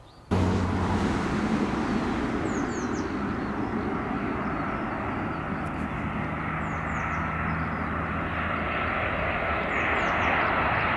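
An airplane moves on the ground at London Stansted Airport, its engine making a loud, steady roar that starts abruptly and holds at a constant level throughout, heard alone without voices.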